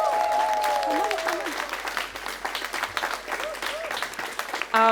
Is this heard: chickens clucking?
no